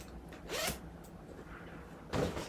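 Zipper on a chest binder shirt pulled in two quick, close zips separated by a quiet pause, with faint handling rustle between them.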